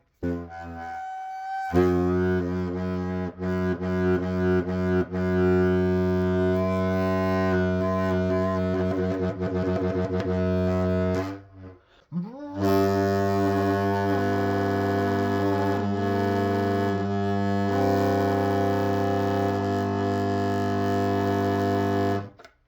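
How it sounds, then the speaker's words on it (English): A loud, sustained homemade foghorn built from dumpster scraps blares with a rich, buzzing drone, pausing briefly in the middle before sounding again just as strong. "That's why I like foghorns."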